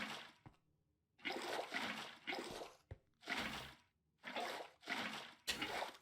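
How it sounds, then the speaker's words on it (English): Flowing water placed in a Minecraft-style block game, heard as a run of repeated splashing, sloshing bursts separated by short silences, fairly close and moderately loud with no talk. "This can be flowing water all the way along."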